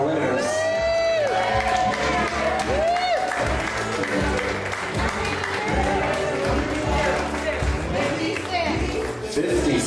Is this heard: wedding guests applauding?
yes